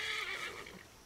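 A single short horse whinny in Assassin's Creed Origins, fairly quiet and fading quickly, heard on its own.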